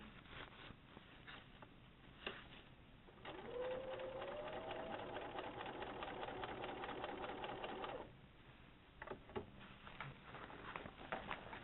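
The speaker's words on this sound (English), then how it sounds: "you have to push all of that through the machine" A sewing machine stitches through bag fabric for a few seconds, a steady mechanical whir in the middle, with quieter handling noise before and after.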